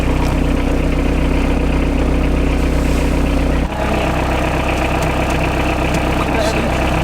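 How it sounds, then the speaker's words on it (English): A vehicle engine idles at night, a steady low rumble throughout that drops slightly in level partway through, with faint voices or movement in the background. "I don't think it's bad if you sit with your engine on here"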